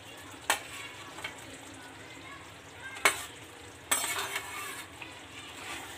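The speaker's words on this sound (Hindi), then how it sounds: "गट्टों को अच्छी तरह मिक्स कर लेंगे इसके अंदर मसालों में" Besan gatte are stirred into spiced curd in a pan, with a low steady sizzle broken by a few sharp scrapes and clinks of a spoon against the pan.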